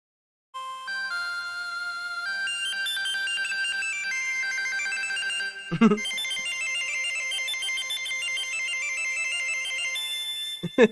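Bright electronic synth tones from Robkoo Qithesizer presets play shifting melodic patterns, with a few distinct patches switching one after another; clean, loud and without voices.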